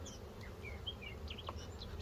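A soft, steady buzzing of honey bees at a hive during a spring hive inspection, with individual wingbeats drifting in and out over a low background hum.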